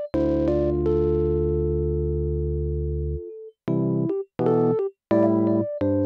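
Keyboard or synth notes run through a Soundtoys Analog Edge distortion preset that adds grit to the high end: one long sustained gritty tone, then several short distorted chord stabs with gaps between them, loud and upfront with no talking.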